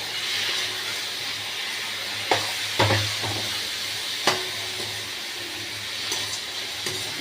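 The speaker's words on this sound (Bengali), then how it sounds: "মশলা একদম কষে গেছে আলু দিয়ে দিলাম দিয়ে কষাবো আলু দিয়ে" Potatoes sautéing with spices in a hot pan over high flame, a steady hiss and sizzle broken by a few louder stirring clatters and spatters, no talking.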